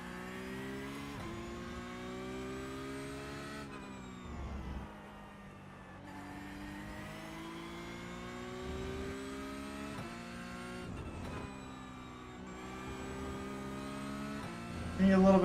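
An open-wheel race car engine in the iRacing sim, a steady high whine rising and falling through upshifts and braking, with faint hum underneath and no talking.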